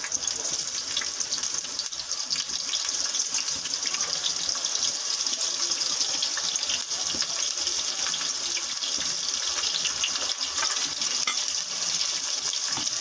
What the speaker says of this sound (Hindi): हमारा ऑयल गर्म होता है तो फिर हम इसमें प्याज डालते हैं। ये हमने प्याज डाल दी